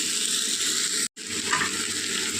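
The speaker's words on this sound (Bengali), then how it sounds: "চলুন এটা একটু কষিয়ে নিয়ে আর আসছি" Malabar spinach, taro and jackfruit seeds with prawns being sautéed for chorchori, a close, continuous sizzle with light stirring, briefly cut by a short gap of silence.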